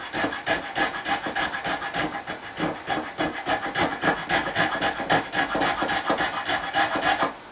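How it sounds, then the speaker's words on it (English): A hand rasp or saw grinds rhythmically back and forth, deepening a line groove notch in a wooden speargun muzzle, with steady close strokes about four per second and no talking. "just putting that notch a little deeper, kind of holding the muzzle to stabilize the gun"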